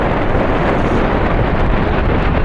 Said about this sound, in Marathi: एकदम खतरनाक वाऱ्यामध्ये तुम्हाला आवाज आवाज ऐकत नसला